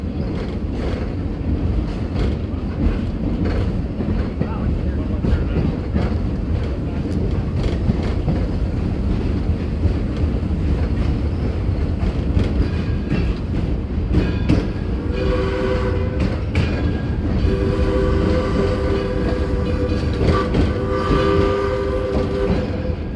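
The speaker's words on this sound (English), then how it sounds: "It's a coal-fired steam engine that was basically cobbled together back in 1932 at the Ford Rouge plant" A coal-fired steam locomotive train, built in 1932, rumbles along steadily with a low mechanical roar, and a horn-like tone sounds in short blasts near the end.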